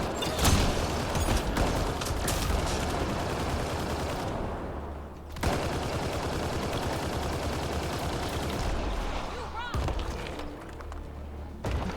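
Turret fire in the game Mass Effect Andromeda rattles as sustained, dense bursts of gunfire across a busy combat mix, broken by a few sharp pauses, with voices faintly under the din.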